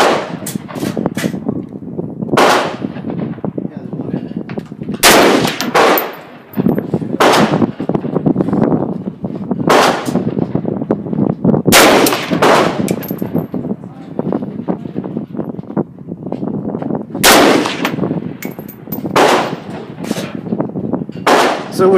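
Yugoslavian SKS M59/66 semi-automatic rifle fired outdoors, sharp loud reports spaced every couple of seconds, about eight shots across the stretch, each ringing out over a windy background, with people talking between shots.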